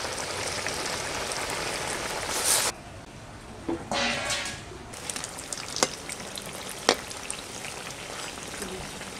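Raw mango chops fry in very hot oil, a dense, close sizzle that drops sharply partway through, then continues with softer bubbling, stirring clinks and occasional sharp pops.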